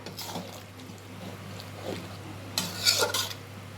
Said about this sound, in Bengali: এবারে ভালো করে মিশিয়ে নেওয়ার পালা